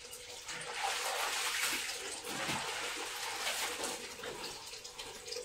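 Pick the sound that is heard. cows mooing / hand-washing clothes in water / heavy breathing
hand-washing clothes in water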